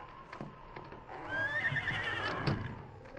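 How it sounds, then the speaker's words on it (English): Horses neigh in a barn in a 1952 radio drama, with a drawn-out whinny at mid-strength that rises over soft hoof clatter and stable noise, and no one speaking. "We'll look at the horses."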